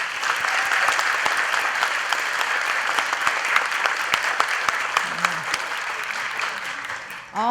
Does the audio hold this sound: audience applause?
yes